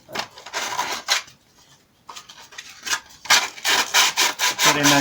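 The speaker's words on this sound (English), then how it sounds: "This is still rather rough, so we take some sandpaper." Sandpaper rasps along the rough trimmed edge of Stormtrooper armour in a series of short, close scraping strokes, separated by brief pauses.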